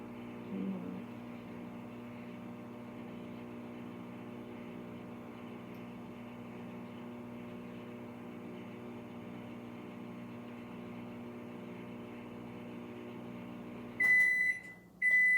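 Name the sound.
microwave oven heating a loaf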